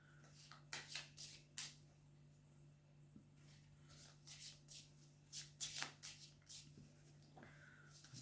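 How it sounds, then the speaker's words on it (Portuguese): Tarot cards being shuffled by hand in a quiet room, a run of crisp riffling bursts and soft slides coming in irregular clusters, close and fairly faint, with no talking. "Eu penso que já estão bem baralhadas"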